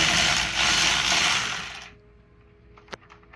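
Ratchet wrench with a 10mm socket undoing the battery negative cable nut on a Gen 1 Ford Raptor 6.2L, a close loud burst of rapid clicking for about two seconds, then a single sharp tick.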